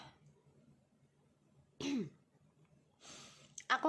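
A person coughs twice, a sharp burst near the middle and another near the end, close and fairly loud against a quiet room.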